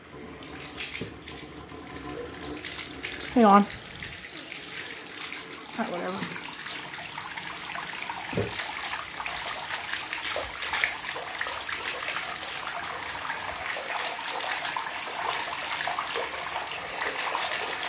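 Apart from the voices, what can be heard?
water running from tap filling bathtub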